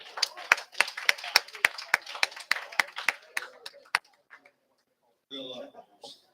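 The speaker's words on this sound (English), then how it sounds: "So let's give them all a round of applause." Sparse hand clapping for bowlers at a PBA50 bowling tournament, a dozen or so sharp, evenly spaced claps for about four seconds that trail off, followed by a moment of quiet and brief talk.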